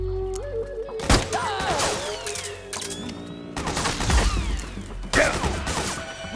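Bursts of automatic gunfire and crashing impacts in a video-game firefight from Metal Gear Solid 4, with loud volleys near 1, 3.5, 4 and 5 seconds over a steady low mechanical hum.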